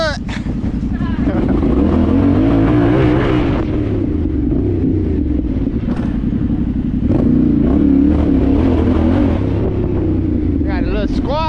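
A dirt bike engine revs loud and close during a night ride, its pitch rising and falling in a steady, unbroken drone with no pauses.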